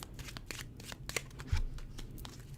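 A deck of tarot cards is shuffled close by, a soft papery riffle ending in a tap as the deck settles.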